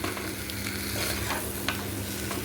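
Pieces of fish sizzle and fry in a pan while being stirred, a steady close crackle with occasional scraping clinks of the utensil, no talking.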